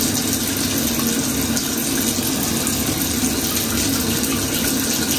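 Tap water runs steadily into a sink for face washing during an at-home skincare routine, a loud, close, unbroken rushing hiss with no pauses.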